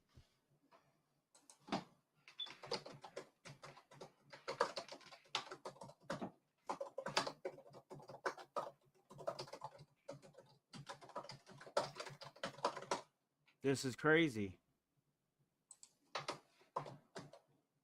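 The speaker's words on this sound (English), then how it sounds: "I can hear you typing." Rapid typing on a computer keyboard, a close run of quick key clicks in bursts, broken by brief pauses and a short louder clatter, with a voice speaking briefly.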